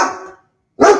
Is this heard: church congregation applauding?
no